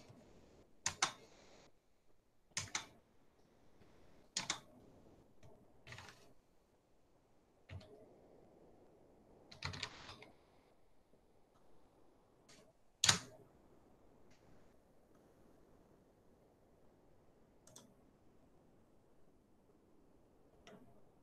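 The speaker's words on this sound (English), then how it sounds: "Now I'll just switch over to keyboard." Sparse, separate key presses on a computer keyboard, each a sharp click set apart by pauses of a second or more, close and clear against a quiet room with no talking.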